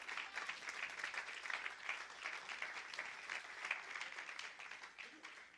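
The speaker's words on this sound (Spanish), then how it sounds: "Denle un aplauso al Señor." A church congregation applauds in a steady, dense wash of clapping that holds evenly for several seconds at moderate distance, with faint voices mixed into the crowd.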